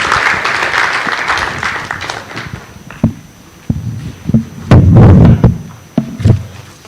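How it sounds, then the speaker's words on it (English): Audience applause at an annual lecture as a speaker comes to the stage: broad clapping fills the first three seconds, then thins into scattered thumps and handling knocks. "join me in giving a resounding round of applause to Mr. Theophilus Emua as he comes to the stage"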